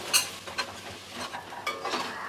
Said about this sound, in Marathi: इथे ओलं कोबरा आहे ना ते घालूया आणि हे आपल्याला ना तांबूस रंगावरती भाजून घ्यायचं आहे परतून घेऊया